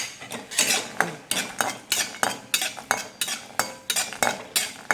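A spoon scraping and clattering against a pan as almonds and other dry fruits are stirred and fried, a quick regular rhythm of close metallic knocks with no talk.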